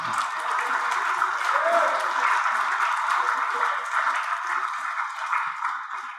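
An audience at a Tamil public talk claps together in a dense, sustained wash of applause that stays steady for several seconds, then eases slightly at the end.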